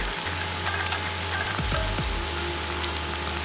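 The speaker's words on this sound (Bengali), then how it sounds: "সবগুলো এরকম করে ভেজে নিব" Potato and egg koftas frying in hot oil give a steady, close sizzle and crackle with fine popping throughout. A low hum sits underneath, and a few soft knocks sound in the middle. No one talks.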